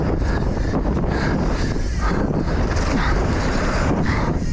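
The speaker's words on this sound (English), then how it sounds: "Nice and deep, I get blown by the wind." Strong wind buffets the microphone throughout during a mountain bike ride at Kamloops Bike Ranch, a loud, steady roaring rumble with gusty swells and no speech.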